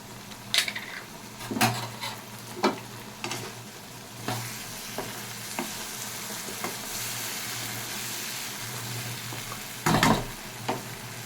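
Potatoes browned in a pan with ground poppy seed paste and half a spoon of sugar, a soft steady sizzle broken by scattered scrapes and knocks of a spatula stirring against the pan.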